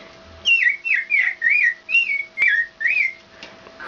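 A girl imitates an American robin's song by whistling, a close, clear string of about eight short rising-and-falling warbled phrases in an even rhythm.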